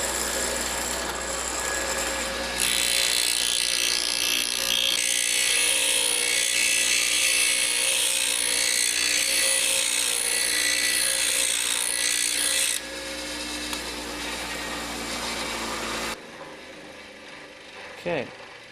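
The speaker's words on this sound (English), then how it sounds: "So I'm going to take this piece and grind it down here" A grinder works a brass tube piece down, a loud continuous harsh grinding and scraping that holds steady for most of the stretch, then drops to a quieter whir before ending.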